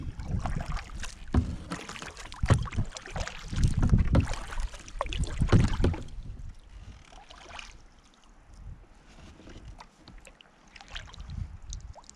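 An Old Town canoe is paddled with a double-bladed paddle on a calm Scottish loch, with rhythmic splashy strokes and water swishes that are louder in the first half, then softer with light wind buffeting the microphone.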